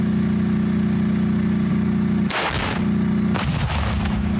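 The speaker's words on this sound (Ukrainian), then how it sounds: "набути практичні навички танкових екіпажів при виконанні стрільб прямою наводкою танків по мішені" A tank cannon fires at a target during a military training exercise, two heavy booming blasts about a second apart over the loud constant idle of the tank engine, no talk.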